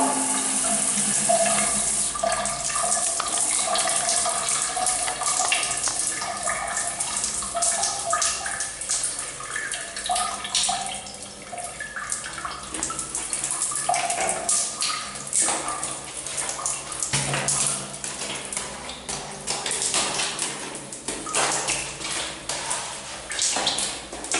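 A bathroom shower runs steadily, water spraying and splashing in a constant loud wash that shifts a little in texture as the stream hits surfaces, with no voices.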